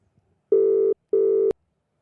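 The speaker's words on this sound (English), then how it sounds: "Tell him Maddie's calling you." Two long electronic telephone ring tones on an incoming call, each about 0.4 seconds with a short gap, loud and close with no talk.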